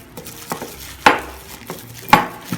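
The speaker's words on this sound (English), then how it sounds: "Let's mix all of this carefully" Ingredients for a Gado-Gado peanut sauce being mixed with milk: a spoon clinks sharply against a bowl a few times amid soft scraping and stirring, close and quiet.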